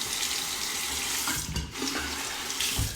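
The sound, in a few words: water running from tap to rinse razor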